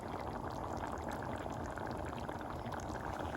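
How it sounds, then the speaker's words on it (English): Tomato sauce poured into a hot pan to deglaze browned bits for a vegetarian pasta bolognese, giving a steady, moderately faint sizzling pour that runs continuously without a break and with no talk over it. "I'm going to add some tomato sauce on top and use the tomato sauce to kind of deglaze the brown off the pan"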